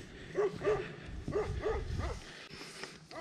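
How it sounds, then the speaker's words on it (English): A dog barks outdoors in a town, four or five sharp, moderately close barks in quick pairs over about two seconds, fairly faint against background street noise. "Oh, there's a dog there, man."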